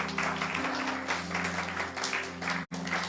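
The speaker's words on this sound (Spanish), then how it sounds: "Den un fuerte aplauso al Señor si lo crees." Dense, steady applause from a church congregation during a sermon, sustained throughout with a brief cut near the end, over a low musical hum.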